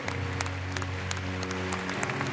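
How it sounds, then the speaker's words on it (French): Arena crowd applauding two champion horses, French stud-book stallions Orient Express HDC and Ornella Mail HDC, at their farewell ceremony; dense sustained clapping over a steady low hum, with sharp individual claps popping out. "Derniers applaudissements pour ces deux grands champions"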